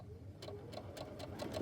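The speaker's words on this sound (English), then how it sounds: "continue sewing." A sewing machine chain piecing fabric patches, its needle running in a steady rapid rhythmic stitching close by, alone without talk.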